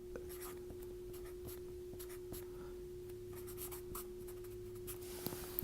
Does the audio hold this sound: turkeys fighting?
no